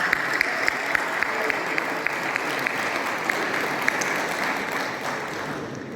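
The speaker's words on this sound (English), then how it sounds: "And a big applause, please." Audience applause at the Bridge Asia Cup, a bridge tournament in India, with a large crowd clapping in a steady, even wash from a distance for six seconds, a few sharper claps standing out.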